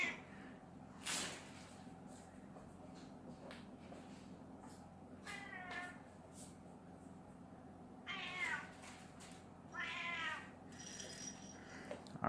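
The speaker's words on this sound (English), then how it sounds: "We're gonna see if my slightly overweight cat is gonna like this." Slightly overweight cat on a generic, poorly rolling cat treadmill meows several times, drawn-out and plaintive, close by over a quiet background with faint rattling and shuffling.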